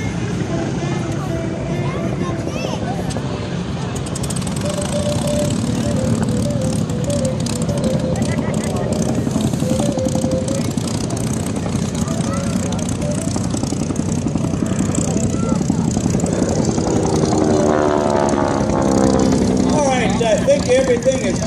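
A Harvard propeller training aircraft performing at an air show in Atlanta, its engine droning steadily at a distance and rising toward the end, under a commentator's voice over loudspeakers.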